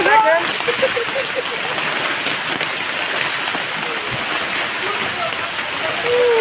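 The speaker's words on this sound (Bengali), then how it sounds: "আজকের বৃষ্টিটা দেখেন আল্লাহ তালার রহমতের বৃষ্টি কুদরতি বৃষ্টি" A rain and hailstorm in Dhaka gives a steady, dense downpour rushing on surfaces. Voices can be heard talking under the rain.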